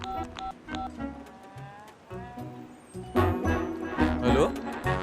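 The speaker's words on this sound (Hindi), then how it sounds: "मुझे एक फोन करना है।" A mobile phone being dialed, its short keypad tones pressed one after another at a quiet, steady pace, with voices and background noise around them.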